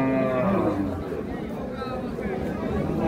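Cattle lowing at a busy livestock market, a cow with her calf for sale, with loud crowd chatter and bargaining voices running throughout over the animals.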